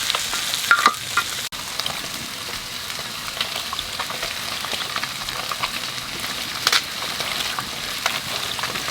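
Tender, organically homegrown greens (shak) fry in a pan with a continuous, moderate sizzle. A few sharp scrapes and clinks of stirring sound near the start, and no one talks.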